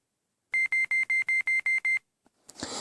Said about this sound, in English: okay, so the timer's up.